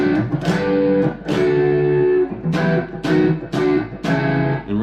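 Guitar chords from a song fretted with a thumb-wrap grip, about six strummed chords ringing out in turn, each attack bright and sustained, loud and close with a slightly driven, effected tone and no talking.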